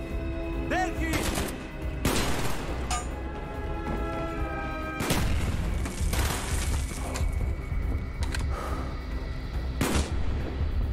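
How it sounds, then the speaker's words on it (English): Gunfire in the Call of Duty Black Ops campaign: repeated loud bursts of shots and heavy booming impacts across the whole stretch, with rumbling explosions and faint voices mixed in. "Who the fuck is shooting at me?"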